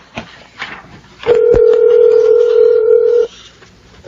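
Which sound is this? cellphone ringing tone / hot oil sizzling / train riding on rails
cellphone ringing tone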